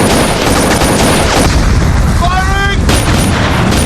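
Gunfire from soldiers in a film battle scene, dense, loud and continuous rattling shots over a heavy rumbling background, with a shouted voice briefly cutting through near the middle.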